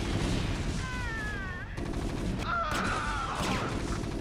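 Battle gunfire in a strategy video game with Marines, RAF planes and Messerschmitts, a dense, continuous wash of rattling shots with whistling, sliding tones layered over it.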